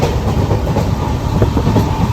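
A train rumbling steadily along the rails with a continuous clickety-clack, loud and close, as if heard from inside a moving carriage.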